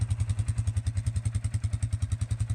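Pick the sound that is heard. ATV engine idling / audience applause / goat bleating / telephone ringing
ATV engine idling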